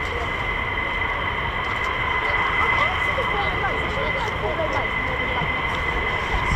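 An F-15 fighter jet roars steadily overhead at an air base, a loud continuous jet rumble holding throughout with no break.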